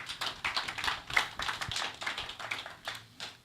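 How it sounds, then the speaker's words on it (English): Sparse, fairly quiet clapping from an audience at a bank's annual financial results event, individual claps distinct in an uneven patter, with no talking. "Give them another round of applause."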